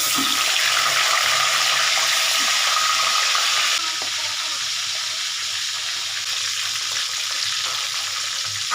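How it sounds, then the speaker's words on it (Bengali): Fish frying in hot oil in a home kitchen gives off a loud, steady, close sizzle that runs the whole time, easing slightly partway through, with no talking. "আমার মাছ ভাজাগুলো হয়ে গেছে হ্যাঁ মাছ ভাজা গেছে"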